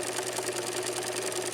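A sewing machine stitches a denim edge to a side fabric, running in a steady, even mechanical whir that stays close and fairly quiet with no voices over it.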